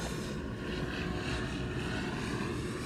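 Hawaiian Airlines airliner passing overhead, a steady broadband engine roar holding loud and unbroken throughout with no voices.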